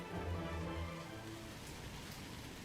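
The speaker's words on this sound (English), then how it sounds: "I can hear the continual pitter-patter of the rain mixed with the howling of the wind" Steady rain patters in the ambience of the visual novel game My Lovey-Dovey Demon, with a low rumble at the start giving way to an even, continuous hiss.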